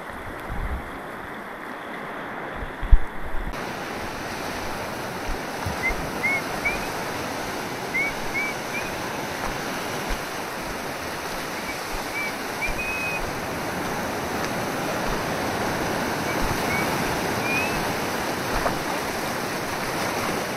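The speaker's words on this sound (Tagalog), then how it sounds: "Sobrang kalma ng dagat" A very calm sea laps gently along the shore at a fishing spot, a soft continuous wash with small swells of sound, faint chirps on top and a low rumble early on.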